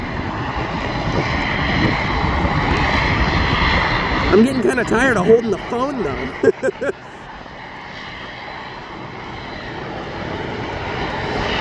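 A firefighting airplane's engine drones loudly and steadily overhead for several seconds, then fades away while someone talks close by.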